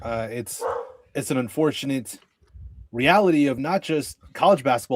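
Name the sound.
dog barking in the background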